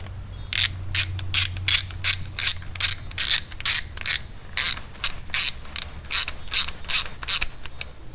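A ratchet tightening screws on a snow blower carburetor during a rebuild, a regular run of about twenty close, loud clicking bursts with short gaps, and no one speaking.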